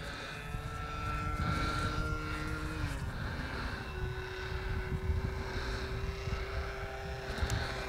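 A Protech Laser Arrow model flying wing with a Rossi 45 glow engine drones steadily overhead, its whining buzz shifting in pitch as it passes at moderate distance.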